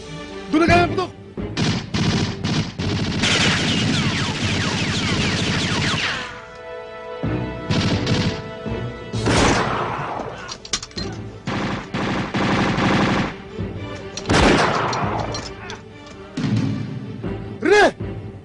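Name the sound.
gunfire in a classic action movie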